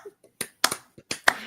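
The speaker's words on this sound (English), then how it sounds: "One of you is clapping." A handful of sharp, scattered hand claps from a small live audience at a wrestling talk show, several distinct bright smacks spaced irregularly with brief silences between.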